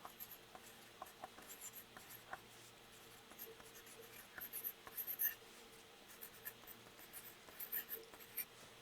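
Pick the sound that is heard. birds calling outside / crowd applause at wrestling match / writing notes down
writing notes down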